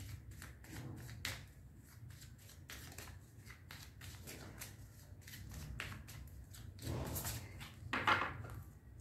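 Playing cards are shuffled for a card reading, a quiet run of soft riffling and flicking bursts at close range, repeated in uneven clusters with no talking.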